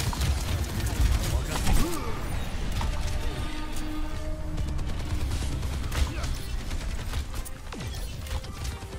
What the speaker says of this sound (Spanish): todos los disparos iban para mí